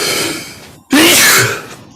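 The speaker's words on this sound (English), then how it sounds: "Whoa, that was a sneeze." A sudden sharp, breathy burst after a brief pause, like a single sneeze, following some soft breathing noise; close and fairly loud.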